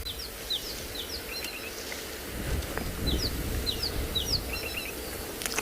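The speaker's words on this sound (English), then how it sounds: "That noise you could hear is that of a rattling cesticula." Repeated high, thin calls of a rattling cisticola in short chirping bursts, calling from a distance over steady outdoor background hiss.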